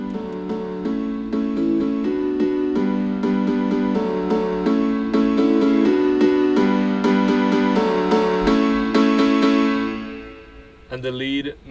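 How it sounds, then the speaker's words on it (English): A piano part fades in as a drop in an electronic music track, sustained chords over steady rhythmic hits and layered synths, loud and continuous before tapering off near the end. "of course I had to fade in the drop piano here"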